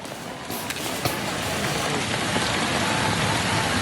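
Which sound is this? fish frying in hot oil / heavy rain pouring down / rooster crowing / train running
heavy rain pouring down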